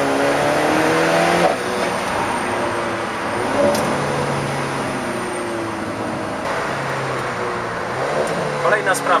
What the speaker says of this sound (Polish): dźwiękiem zasysanego powietrza do kolektora dolotowego, który brzmi trochę tak, jakby wielki olbrzym przez szparę w zębach wciągał powietrze.